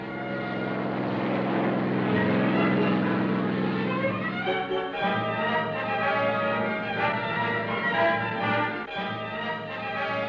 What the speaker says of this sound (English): Planes based at Gibraltar flew over to give extra insurance for the success of the operation.